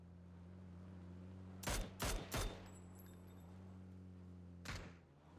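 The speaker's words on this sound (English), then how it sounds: "someone's got an MG3 over here" Several short loud bursts of MG3 machine gun fire from a PUBG match, three close together then one more a few seconds later, over a steady low hum.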